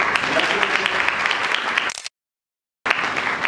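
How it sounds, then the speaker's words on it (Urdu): A church congregation applauds a couple during Sunday worship, a dense, steady wash of clapping from many hands that stops abruptly, falls silent, then resumes. "تو اس کپل کے لیے تالیاں بجائیں."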